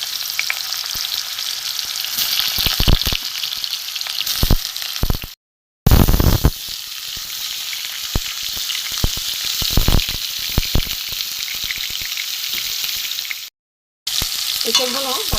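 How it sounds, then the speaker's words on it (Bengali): Boiled young jackfruit fries in a pan, giving a steady, close sizzle with occasional stirring scrapes that runs almost continuously and breaks off twice for a moment. "সেদ্ধ এঁচড় একটুখানি ভেজে নেব।"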